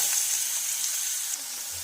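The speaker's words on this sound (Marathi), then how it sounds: "तर मस्तपैकी हे फ्राय करून घ्यायचं आहे" Ginger, garlic, onion, green chili and cumin seeds frying in a pan, a steady close sizzle throughout with no talking.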